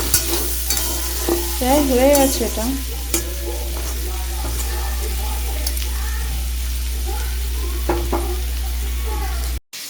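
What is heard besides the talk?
frying and stirring greens with onions in a pan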